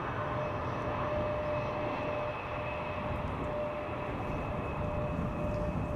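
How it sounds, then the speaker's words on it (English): A KLM airliner on landing approach to the center runway at Amsterdam Schiphol Airport makes a distant, steady broadband jet roar with a faint high whine held throughout, with no talking. "this KLM flight arriving from Newcastle, in other words from the west, is going to the center runway"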